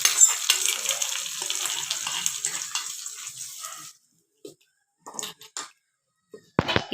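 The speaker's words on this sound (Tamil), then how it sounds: "கருவேப்பிலை நல்லா பொரிஞ்சதும் அடுப்பை ஆஃப் பண்ணிவிட்டு நம்ம சட்னியில் தாளிப்பு சேர்த்துக்கலாம்." Curry leaves crackle and sizzle in hot oil for a chutney tempering, a steady frying hiss that stops abruptly midway, followed by a few faint clinks and brief noises.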